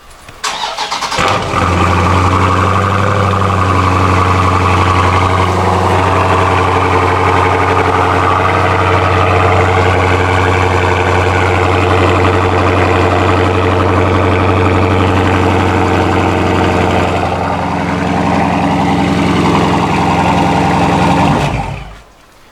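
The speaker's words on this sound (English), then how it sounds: "let me give you guys a cold start." A supercharged Scat Pack car engine cold-starts, cranking and firing, then settles into a loud, steady, rumbling idle for about twenty seconds before cutting off abruptly; the exhaust is damaged.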